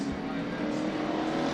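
Dirt track race cars at Bakersfield Speedway roar continuously over the short stretch, a dense, steady engine drone with no break, heard from a moderate distance.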